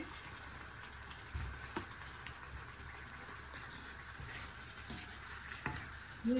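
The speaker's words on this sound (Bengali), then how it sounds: "এখন আমি ইলিশ মাছ আর মাথা এগুলো আমি দিয়ে দিতেছি" Pieces of hilsa fish and hilsa fish heads fry in a pan of hot oil, giving a quiet, steady sizzle with occasional soft bubbling pops.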